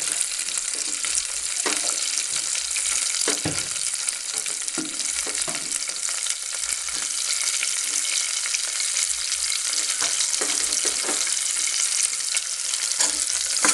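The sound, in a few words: green chillies frying in a pan until brown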